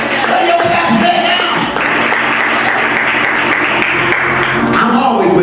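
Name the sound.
congregation clapping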